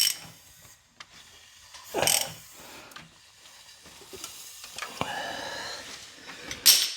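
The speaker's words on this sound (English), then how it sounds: "we are going to crank this thing over until we're approximately where we think we should be" A Ford 4.6L 2V V8 being turned over by hand with a wrench during a timing chain job, giving intermittent ratcheting clicks and mechanical clunks in a quiet garage.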